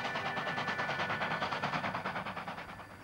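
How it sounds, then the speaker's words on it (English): A steam locomotive working a regular train up a heavy grade, its exhaust beating in a fast, steady rhythm of chuffs, loud and sustained with a faint whistle-like tone running through. "the sight and sound of a steam locomotive working a regular train up a heavy grade"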